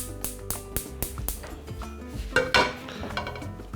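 Metal frying pan set down on a gas stove: a series of sharp clanks and knocks of cookware, several distinct hits close by, followed by a louder scraping clatter.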